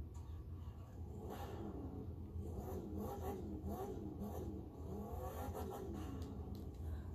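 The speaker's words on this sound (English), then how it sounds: "Let's start the engine" A Shelby Mustang in The Crew 2 video game turning over and revving, a low rumbling engine note that swells and surges steadily throughout, loud and up close with no talking.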